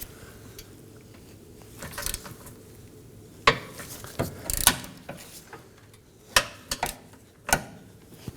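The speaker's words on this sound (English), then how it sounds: "with a ratchet and feed it into the vehicle to gain access to our inner bolt" Clicks and metallic clanks from a ratchet working a 14mm rear upper control arm bolt on a 2018-2024 Toyota Camry, sounding as sparse close knocks and ratcheting snaps over quiet background.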